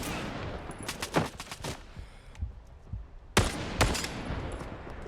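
Bursts of gunfire in the shooter game Stalker 2: two clusters of sharp rapid shots, one around the first second and another past the midpoint, with quieter ambient noise between and no speech.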